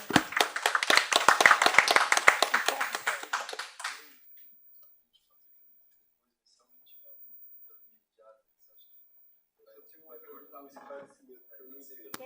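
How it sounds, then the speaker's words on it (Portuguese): A short burst of audience applause at a journalism and digital media talk, brisk and dense for about four seconds before cutting to near silence, then faint murmuring voices. "Uma salva de palmas"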